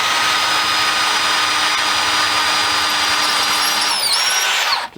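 A power drill with a 3/8 bit boring holes into a cast resin or rigid foam haunt prop, a loud continuous whine with shifting pitch near the end, then abruptly stopping.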